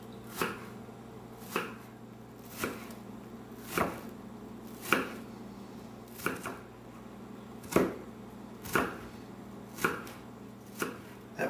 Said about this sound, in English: chopped up finely into small chops, small pieces